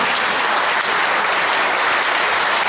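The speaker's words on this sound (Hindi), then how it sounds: "आदरणीय विधायक जी के स्वागत में सब लोग खड़े होकर एक बार जोरदार तालियां बजा दें" A standing audience at a 15 August Independence Day celebration at MIT Moradabad bursts into loud, dense applause welcoming the MLA, a continuous roar of clapping with no voices over it.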